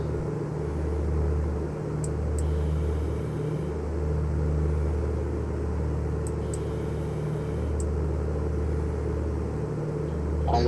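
Twin aircraft engines idle steadily in Microsoft Flight Simulator 2024, a continuous low droning rumble with a humming tone that holds at an even level throughout, with no voices over it.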